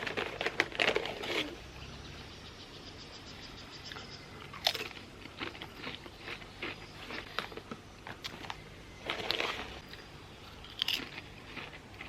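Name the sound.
crunching strawberry-flavoured potato chips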